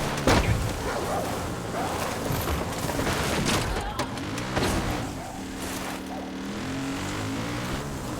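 A vehicle crash in the video game Far Cry 5: dense, loud engine roar with bursts of impacts and booms, followed by a steadier low rumble as things settle, with no voices.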